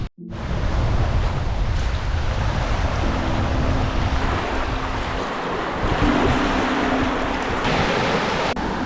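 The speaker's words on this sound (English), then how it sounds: "So just here, down here on the beach at Lindis Bay." Surf at Lindis Bay, New Zealand, a steady broad roar of waves on the beach, with gusting wind buffeting the microphone throughout and no voices.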